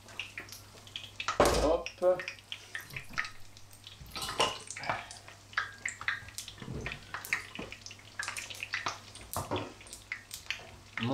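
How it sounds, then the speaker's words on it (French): Hands are rinsed under a running kitchen tap while zucchini-flower, zucchini and eggplant fritters are being made: brief splashy water bursts with some kitchen clatter, and a voice talks throughout. "Je me rince les mains."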